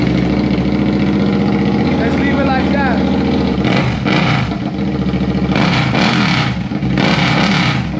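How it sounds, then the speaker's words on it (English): A 2023 Suzuki SV650 motorcycle engine running with no exhaust fitted, a loud, raw idle rumble up close that swells into several sharp revs, with someone talking over it. "Let's see what it sounds like without an exhaust."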